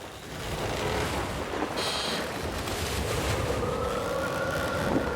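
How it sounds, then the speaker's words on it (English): A steady, hollow wind rushes without pause over a boat with no waves, a low broadband roar with a faint whistling tone drifting through it, fairly loud and close. "A ghosty wind, no waves."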